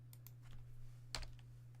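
Brisk typing on a brand new computer keyboard: scattered keystroke clicks, then a sharper cluster of louder clacks near the end, all over a steady low electrical hum with no talk.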